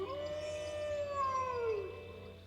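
A game character's howl in Emily Is Away 3, a long rising then falling wail that carries for about two seconds over a low steady background hum.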